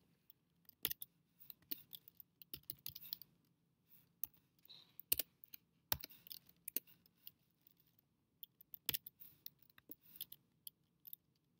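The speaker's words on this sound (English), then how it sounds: "I'm going to just type in something." Sparse, faint clicks of keys being typed on a computer keyboard in a quiet room, arriving in short irregular bursts with pauses between them.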